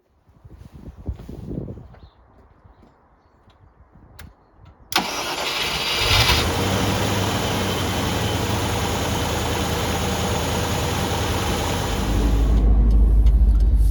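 A 1987 Range Rover Classic with the 3.5 EFI engine cranks and fires at about five seconds, then settles into a loud, steady run that builds as the vehicle pulls away and drives on. Softer handling noises come before the start.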